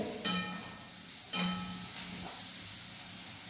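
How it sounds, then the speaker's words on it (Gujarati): Onion fries in oil for a masala dosa filling, giving a faint, even sizzle punctuated by two sharp spoon scrapes against the pan. "આ તેલમાં આપણી ડુંગળી સતરાઈ ગઈ"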